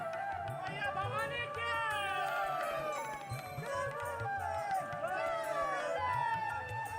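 A crowd of devotees runs through town squares in Munger, bearing a Durga idol on their shoulders in a palanquin carried by 32 bearers. Steady crowd hubbub and footfalls continue, with voices chanting and calling over the din.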